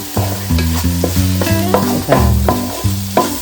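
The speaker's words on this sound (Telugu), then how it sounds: "ఈ వేయించిన ఉల్లిపాయ, పచ్చిమిర్చిలో అల్లం వెల్లుల్లి పేస్టు వేసి, కరివేపాకు కూడా వేసి" Onion, green chili, ginger garlic paste and curry leaves frying and being stirred in hot oil, with repeated scraping strokes of a spoon against the pan over a steady sizzle, close and fairly loud.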